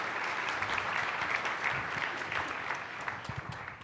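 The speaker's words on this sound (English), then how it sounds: "So how about a round of applause for Pedro Martinez again?" Applause at the San Antonio ISD State of the District 2020 event, a crowd clapping for Pedro Martinez in a dense, steady wash of claps that stays loud and even throughout.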